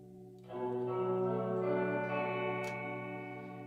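A sustained electric guitar chord rings out, washed in lush reverb and a shimmering chorus-like effect, decaying slowly with no voices.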